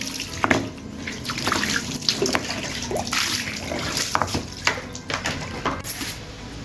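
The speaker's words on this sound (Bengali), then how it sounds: "সম্পূর্ণটা একবার যখন হয়ে যাবে তখন আপনারা এইভাবে সুন্দরভাবে ধুয়ে নেবেন" Water splashing and running over a stone grinding slab (shil-pata) as it is washed, a steady close wash of pouring and dripping with scattered clinks and scrubbing sounds.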